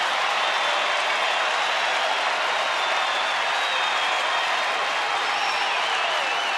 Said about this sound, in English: the crowd standing, cheering on the hometown Rangers